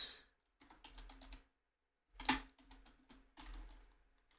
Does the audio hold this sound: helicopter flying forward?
no